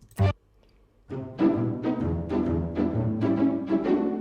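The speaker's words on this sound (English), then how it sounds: "the main string riff, which was previously played with the bow, now turns to plucks" A bright plucked string riff, short staccato notes in a bouncy rhythm after a single opening pluck and brief pause, clear and upfront.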